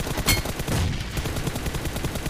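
Rapid automatic gunfire from a mobile shooter game's team deathmatch fight, a fast rhythmic string of close, punchy shots with one sharper burst near the start, heard without talk over it.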